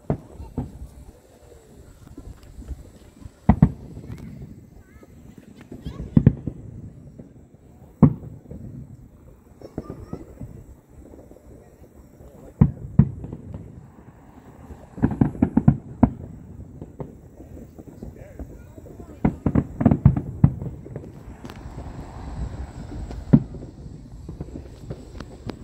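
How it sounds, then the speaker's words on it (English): Scattered fireworks explode at irregular intervals over a lake, sharp booms and crackles at a distance, with quieter stretches in between. "more fireworks."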